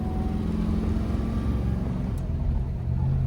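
A restored 1965 Shelby GT350 V8 drives easily through its gears, giving a steady, low engine rumble heard from inside the car. The drone is moderately loud and even, with no talk.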